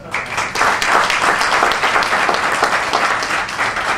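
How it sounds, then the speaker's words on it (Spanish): Lively applause from a group at a training event, many hands clapping at close range with steady intensity and slight swells throughout. "Denle un aplauso al evento."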